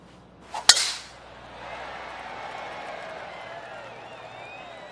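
A golf ball struck off the tee in the video game PGA 2K23 gives one sharp crack, followed by a rising murmur of crowd reaction, with a commentator's voice underneath.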